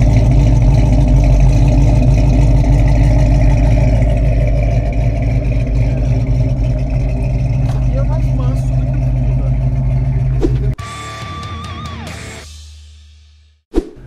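A 1970 Dodge Challenger engine with square exhaust rumbles at a steady, loud idle for about ten seconds, then shuts off, leaving quieter background hum and a final thump.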